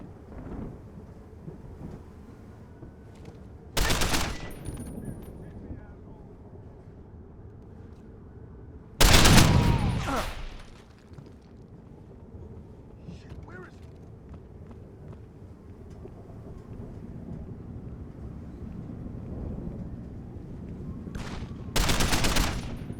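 Combat gunfire in the video game Deus Ex: Human Revolution during an assault on Sarif Manufacturing's exterior, three loud explosive bursts of shots standing out above a steady low rumble of background game ambience.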